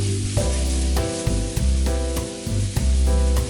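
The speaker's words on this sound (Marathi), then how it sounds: "कांदा सतत परतत राहा जेणेकरून तो करपणार नाही" Chopped onion sautéing in a little oil for a Malvani-style prawn masala, a loud, close, continuous sizzle with rhythmic scraping strokes as it is stirred.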